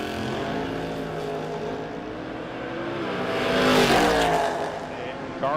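A 1972 Chevrolet Nova and a Vega in a drag race run, loud roaring engines droning steadily and then swelling as the cars pass close by, with a tannoy-like voice faintly mixed underneath.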